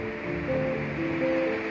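Sea water rushes and churns steadily around a passenger boat crossing to Bet Dwarka in Gujarat, mixed with a constant low engine hum. The sound is close and unbroken, with no voices.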